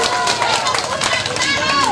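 Crowd applause at an outdoor election campaign rally in a village, a dense, loud, continuous clapping with voices and chatter mixed in.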